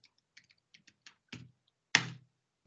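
Sparse keystrokes on a computer keyboard while configuring a router in Cisco Packet Tracer: a string of light, close clicks, then two heavier key presses near the end, the last a firm thump, with no talking.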